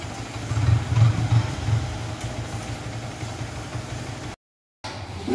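A Yamaha R15 v3 motorcycle engine runs at a steady idle with a mid-pitched hum and light vibration, close and continuous, briefly cut out near the end before resuming.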